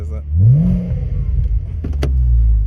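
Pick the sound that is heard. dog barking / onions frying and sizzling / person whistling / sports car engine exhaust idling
sports car engine exhaust idling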